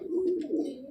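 A single brief, low coo from a Rampuri pigeon sounds close by and alone, lasting about a second.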